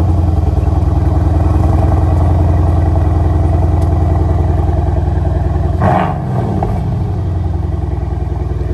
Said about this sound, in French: Et on va vous faire écouter le démarrage.